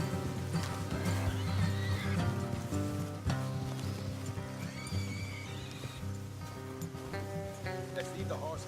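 Horses whinny and snort over steady clopping hooves in the video game Red Dead Redemption 2, with a low rumbling background and faint voices underneath.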